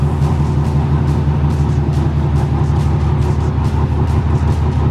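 A Mazda RX7, fresh off the boat from Japan and awaiting a retune, idles loudly up close with a steady, lumpy rhythmic engine drone that stays even throughout, no voices over it.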